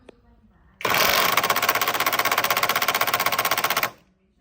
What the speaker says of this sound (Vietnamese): Em đang siết ốc con 19, đó, đang siết vào.